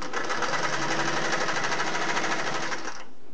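A Singer Model 401A sewing machine runs a straight stitch with a number 14 needle through material about 2.5 millimeters thick, a fast, even mechanical whirr with a rapid rhythmic pulse, close and steady before stopping abruptly.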